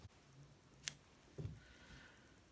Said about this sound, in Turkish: Şimdi ipi kesiyorum.